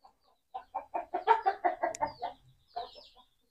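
A chicken with a swollen face, runny nose and watery eyes clucks in a quick series of about ten close, moderately loud notes, pauses, then gives a few more.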